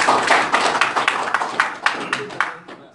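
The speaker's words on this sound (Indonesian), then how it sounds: "Ada yang tepuk tangan?" An audience at a business leaders' meeting in Indonesia claps in loose, irregular bursts, loud and close, with voices mixed in.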